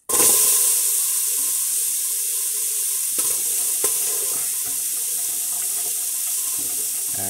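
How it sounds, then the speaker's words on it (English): Ginger and onions tossed into a hot pot while making pho: a loud, steady frying hiss fills the whole stretch from an abrupt start, with a couple of faint knocks of the pan partway through. "Throw the ginger in and the onions."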